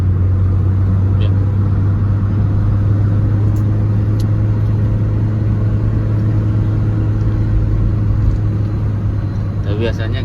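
A Peugeot 308 engine drones steadily while climbing a steep uphill road at Nagreg, with a constant low rumble and no clear downshift, heard close from inside the car.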